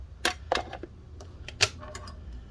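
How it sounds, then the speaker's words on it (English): Small screws go back into a Lenovo IdeaPad 320-15IKB laptop to secure its battery, giving a few faint, sharp metallic clicks and ticks in quick irregular succession, close up and quiet. "let's go ahead and put these screws back in for the battery"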